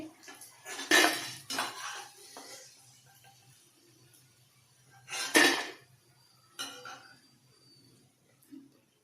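Fried potato pakoras lifted out of a pan with a metal utensil, a few separate clinks and scrapes against the pan with quiet pauses between them.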